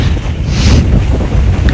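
Strong wind roars into a microphone on a hilltop peak during a trek to Ambaji Durga Betta, a loud, steady rumbling buffet with brief gusting swells and no voices.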